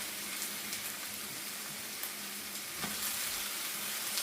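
Green chiles for a salsa cooking in a hot pan, a steady close hiss of frying and sizzling with no talking, continuous and even throughout.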